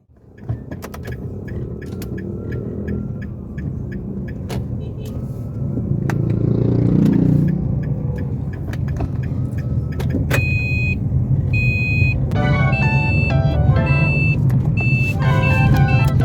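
A car driving on a road in Ligao with a steady engine and road rumble throughout, a clunk near the start, a rise in engine level midway, and repeated electronic beeps toward the end.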